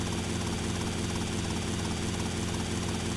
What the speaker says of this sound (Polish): Zostawiam mój helikopter.